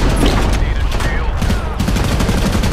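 Rapid gunfire in the shooter video game Modern Combat Versus, loud close-range bursts of shots rattling continuously with booming impacts, a voice briefly audible beneath.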